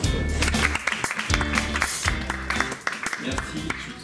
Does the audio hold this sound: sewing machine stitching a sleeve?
no